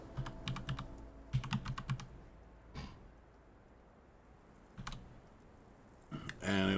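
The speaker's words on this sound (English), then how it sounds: "you can type in things like this" Quick bursts of keystrokes on a computer keyboard, close and crisp, come in short clustered runs separated by pauses, with a few single clicks and a louder rustle at the very end.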